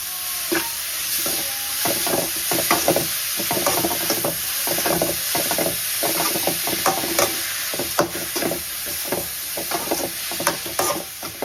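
Food sits frying in hot oil, giving a constant close sizzle broken by repeated stirring and scraping strokes against the pan, with no voices.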